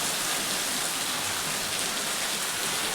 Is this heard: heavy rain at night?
yes